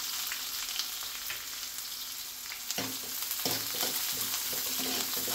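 Curry leaves and onions with a little salt fry in a pan for bottle gourd buttermilk sambar, a steady close sizzle throughout with occasional scraping stir strokes toward the end, no voices.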